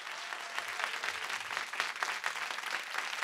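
Steady applause from a concert audience in Montauban, a dense wash of clapping that continues evenly throughout without voices standing out.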